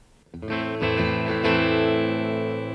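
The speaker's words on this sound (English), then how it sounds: "That should be closer to a single coil pickup sound." An Epiphone SG electric guitar with new pickups, set for a single-coil sound, strikes a chord, then rings out in a sustained, slightly gritty tone with a few quick restrikes, played alone.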